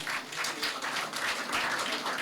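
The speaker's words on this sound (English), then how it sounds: "Let's give them a huge round of applause." Audience at an inter A Level speech competition claps in steady, dense applause, a brief burst of many hands with no one speaking.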